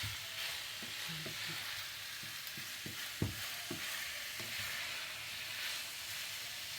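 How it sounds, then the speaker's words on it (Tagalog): Minced meat fries in a pan with a constant close sizzle while a utensil scrapes and stirs it in irregular clicks and knocks, browning for a Spanish cannelloni filling. "haluin na natin hanggang sa magkulay brown siya bago natin siya tanggalin"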